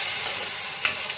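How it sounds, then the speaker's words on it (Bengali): Tomato paste sizzling and being stirred in a pan of frying ingredients while preparing masoor dal tadka, a steady close sizzle with a couple of brief scraping accents. "ভাজা ভাজা হয়ে গেছে, আমাদের টমেটো পেস্টটা দিয়ে দেবো।"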